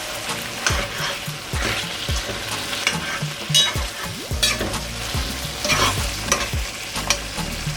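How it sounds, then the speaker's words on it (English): Jamaican-style curry chicken being stirred in a pot, with steady scraping strokes and a soft sizzle from frying, close and fairly loud with no talk. "Now I'll give the pot a stir"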